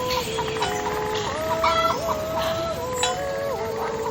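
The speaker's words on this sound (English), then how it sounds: "add a calm breeze, some cowbells and chickens clucking" Chickens cluck and chatter in a rural Swiss Alps soundscape, with several birds calling in overlapping bursts over a soft, steady background hiss.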